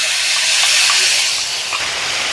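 Tomato, cashew, onion and garlic paste hitting hot oil gives a loud, steady broadband hiss and sizzle that fills the whole moment, with a few faint pops, close by and with no talking.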